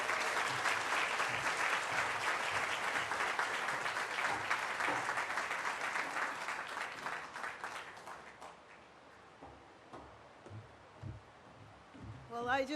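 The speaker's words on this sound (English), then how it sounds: "let's give Mayor Karen Bass a big round of applause" A crowd at an apartment grand opening gives Mayor Karen Bass a big round of applause, dense and loud at first, then thinning to scattered claps before a short burst at the end.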